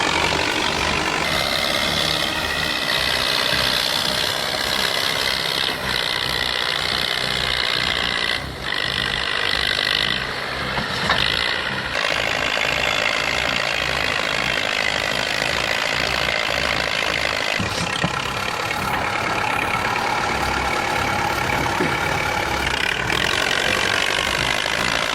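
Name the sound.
old diesel heavy machine engine running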